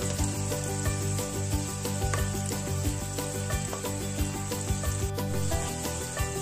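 Soffritto for lasagne alla bolognese browns in a pan with a steady, close sizzle and crackle, punctuated by small scraping stirs, with no talking.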